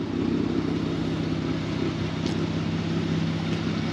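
A Hyundai Genesis engine idling, a steady low, even rumble close by that holds constant throughout, with no one speaking.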